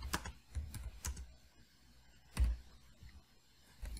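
Quiet computer keyboard typing during 3D modelling work in Grasshopper, with a few scattered, isolated key clicks and a brief louder tap, close to the microphone, with no talking.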